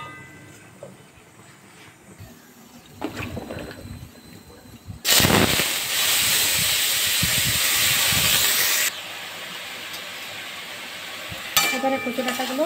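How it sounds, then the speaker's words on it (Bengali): Taro stalks hit hot oil in a wok and burst into a loud, close sizzling hiss that holds for about four seconds before easing off. A second sharp sizzle flares at the end. "আর আমি প্রথমে কচু ডাঁটাগুলো ভেজে নেব"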